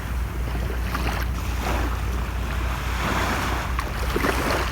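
Ocean waves washing onto the beach at Nang Ram, Sattahip, Chonburi, on a calm morning, a loud, continuous roar of surf with swelling and fading rushes.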